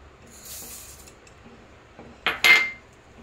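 A spoon stirs sugar into thickened, reduced milk in a pot for basundi, giving a faint quiet scrape and then two short, louder metallic scrapes against the pot near the end.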